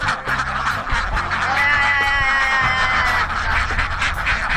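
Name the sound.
ducks quacking on an open-field duck farm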